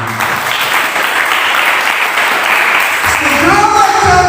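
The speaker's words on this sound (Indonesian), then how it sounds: "Berikan dulu tepuk tangan." Church congregation applauding during a Christian sermon, a sustained dense wash of many hands clapping at steady loudness, with a voice starting to speak over it near the end.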